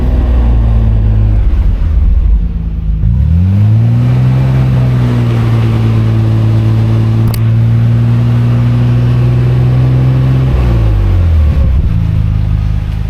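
A Nissan Skyline R33 GTR engine is held at a loud, sustained high rev for several seconds with the wheels spinning, rising from idle and dropping back near the end, very close and alone without talk.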